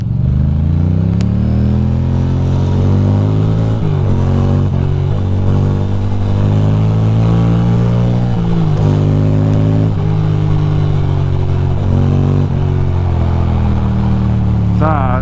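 Motorcycle engine droning loudly and steadily close up in Brooklyn to Manhattan traffic as the rider accelerates to pass a Chevrolet Colorado, with slight pitch shifts as the revs change and constant wind roar.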